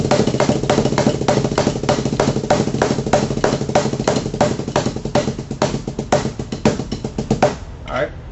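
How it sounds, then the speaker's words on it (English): A single paradiddle sticking pattern played on a drum kit during a lesson, heard as a steady, dense run of close, loud strokes for about eight seconds with ringing overtones, alone and without talk. "And this is your single paradiddle."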